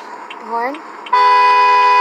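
A 2020 Jeep Grand Cherokee horn in a video game blares loud and steady for about a second. It comes in after a brief swooping tone, and a voice speaks just before it.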